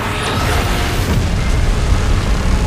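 A beam blast explosion in the BGMI Titan: Last Stand game mode, a loud, broad roaring boom that swells and rumbles steadily with no talk over it.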